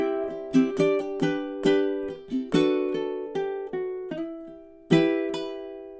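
A ukulele plays the Wellerman, mixing strummed chords with a little single-note picking in an uneven rhythm, each strum ringing clearly and fading, with no voice over it.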